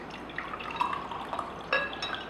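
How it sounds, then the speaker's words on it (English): Sesame oil is poured into water, giving faint scattered drips and small liquid splashes over a quiet background, with a brighter splash near the end and no talk. "I'm going to actually put some oil here."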